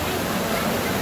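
The Adoshi waterfall near Khopoli gives a dense, steady roar of falling water, loud and close, with a voice faintly mixed in.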